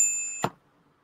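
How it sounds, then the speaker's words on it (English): An auctioneer's bell at a coin auction gives a single sharp ding, close and bright, then quickly fades into near silence. "Where's my bell?"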